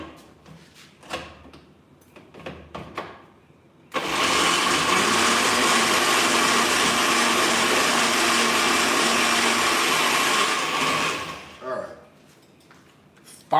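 A blender whirs loudly and steadily for about seven seconds, pureeing a lemongrass garlic marinade, with a person talking briefly before and after the motor runs.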